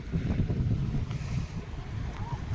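Strong wind buffets the microphone in rough gusts over a low rumbling drone, out on choppy sea during a fluvial parade.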